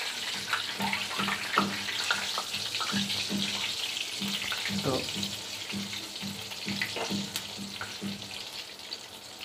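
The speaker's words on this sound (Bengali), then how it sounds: "তেল হিট চলে আসলে তখন সমুচা ভাস্তে হয়" Chicken samosas frying in hot oil, a steady close crackling sizzle with bubbling throughout and scattered sharp pops, while a voice speaks briefly over it.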